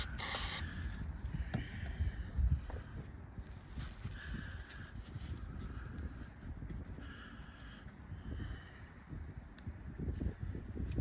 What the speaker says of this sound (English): Won't hurt as well just to give it a little bit of a spray in there